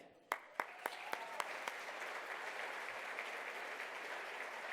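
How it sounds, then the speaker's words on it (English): An audience at a business hall of fame dinner applauds for the event's presenting sponsor, a bank: a few sharp early claps quickly swell into steady, moderately distant clapping that continues to the end. "Let's give a round of applause to the presenting sponsor, Independent Bank."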